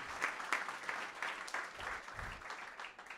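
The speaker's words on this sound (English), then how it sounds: "So applause for Joseph." Applause for a speaker at a sound and music meetup, moderate crowd clapping with distinct individual claps, heard somewhat distant and continuing briefly.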